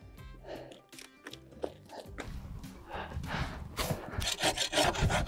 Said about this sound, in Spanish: hemos acabado de cortar los palos